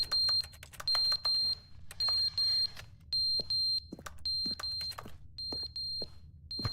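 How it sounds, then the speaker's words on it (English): In The Stanley Parable, a dying smoke alarm battery gives short, piercing electronic chirps. They repeat in a steady series of paired beeps, loud and close, with faint game ambience between them and no speech. "The fire alarm battery is going dead."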